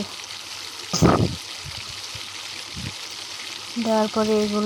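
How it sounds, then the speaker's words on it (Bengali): Bottle gourd leaf fritters fry in hot oil in a kadai with a soft, steady sizzle. A sharper splashing burst comes as a piece is dropped in, and a voice is briefly heard at the end. "কড়াইতে তেল দিয়ে তেলটা গরম করে নিয়েছি। এরপরে একটি একটি করে আমি এগুলো দিচ্ছি কড়াইতে।"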